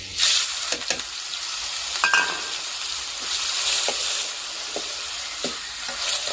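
Loud, steady sizzling of something roasting in hot oil, broken by repeated scraping stirs of a spoon against the pan.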